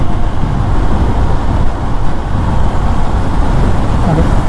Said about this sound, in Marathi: थोडीशी पटापट बाईक खेचूया